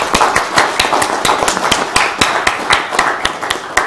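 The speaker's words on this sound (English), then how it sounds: "if we could have a round of applause for all of our fine candidates" Steady applause from an audience at a candidate forum, many hands clapping in dense, overlapping claps with sharp individual claps standing out, loud and continuous throughout.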